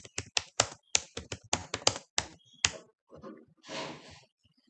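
Rapid, crisp keystrokes on a computer keyboard land close and distinct in a quick run, then stop, followed by a softer muffled rustle.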